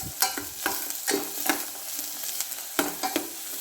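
Mixed vegetables with spring onion frying in ghee, stirred repeatedly for a vegetable soup, giving a steady close sizzle broken by sharp scraping stir strokes every half second or so.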